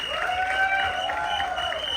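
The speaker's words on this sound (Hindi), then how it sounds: "थोड़ा तालियों से इनका स्वागत करें" An audience claps to welcome new cast members at the Mirzapur movie trailer launch event. Steady crowd applause fills the moment, blended with sustained tonal music.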